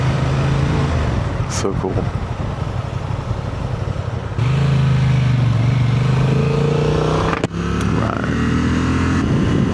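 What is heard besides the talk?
Honda Gold Wing motorcycle passing on a road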